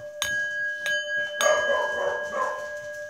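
Excited dogs, including one named Léo, barking in a few sharp, fairly distant bursts indoors, over a steady faint tonal hum.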